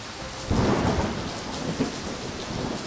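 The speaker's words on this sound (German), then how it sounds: "Oh nein, das war ein Donner." A deep rumble of thunder rolls in over steady rain, swelling loudly after a moment and then fading back into the downpour.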